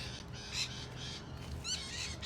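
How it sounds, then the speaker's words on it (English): Harsh lorikeet squawks ring out in short bursts from a mango tree in Sydney, a few calls overlapping at moderate distance over a steady background hum. "You can hear the lorikeets going off."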